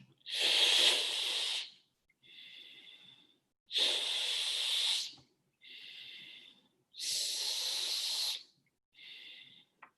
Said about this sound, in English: In this manner, you're breathing in through your teeth.